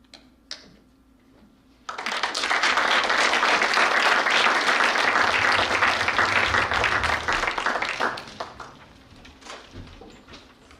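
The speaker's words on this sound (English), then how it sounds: "I guess I'll do the clapping thingy" An audience applauds at a speech showcase event, a dense burst of clapping that starts suddenly, holds for about six seconds and then tapers off into scattered claps.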